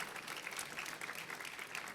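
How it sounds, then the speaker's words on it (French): Faint, dense applause from an audience at an awards ceremony, a soft continuous patter of many hands heard from a distance. "Vous pouvez applaudir."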